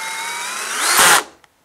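A power drill whirs steadily while driving screws during reassembly of an RCF NXL24A tall column loudspeaker, rising into a louder burst near the end before cutting off with a faint click; close and alone.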